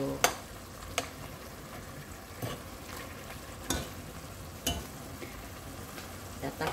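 Chicken frying in a pan gives a steady low sizzle, broken by a few sharp clacks of stirring at irregular intervals, close by and without talk.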